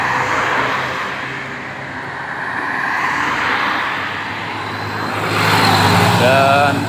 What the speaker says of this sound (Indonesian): Ramai bus pariwisata.